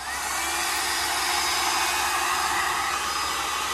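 A small, light compact hair dryer blows air in a steady, loud, close whooshing hum that holds constant throughout with no voices.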